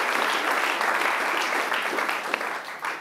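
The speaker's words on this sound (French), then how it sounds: "et on peut les applaudir" Steady audience applause fills a cycling awards ceremony, a dense wash of many hands clapping continuously, fairly close and even in level throughout.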